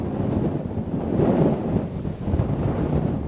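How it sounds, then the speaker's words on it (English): Strong gusting wind of about 20-25 knots roars outside after a front passes, a steady broadband rush with surges near the middle, buffeting the microphone with low rumble and no talk. "That wind is blowing probably 20-25 knots"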